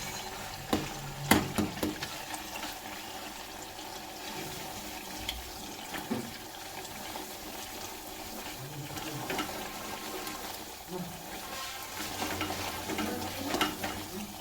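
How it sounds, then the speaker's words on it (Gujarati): Quiet sizzling of oil as chili is stirred into a tempering, with occasional scraping and stirring clatter against a pan, steady and close. "આપણે જે મરચું નાખ્યું એને હલાવી અને મિક્સ કરવાનું છે"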